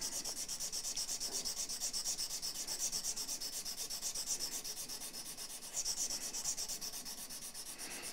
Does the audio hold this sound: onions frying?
no